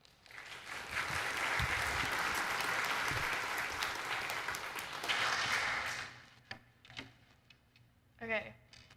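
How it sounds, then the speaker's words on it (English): A room full of people applauds warmly for about six seconds, the clapping then fading out into scattered shuffling and a few quiet sounds. "give them both a little hand clap as they come up"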